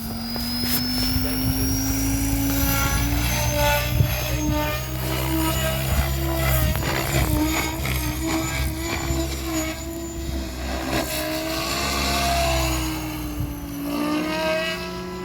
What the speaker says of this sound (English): Puma 700 6S, 5500 milliamp Max Mania batteries. X-Nova motor, KST servos.